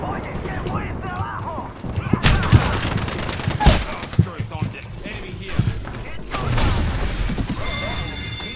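Video game gunfire crackles in bursts and single sharp shots amid a busy battle mix, with voices speaking over the action.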